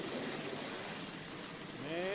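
Helicopters flying over the White House grounds give a steady, broad rotor and engine roar that stays constant throughout, fairly distant with no voices over it.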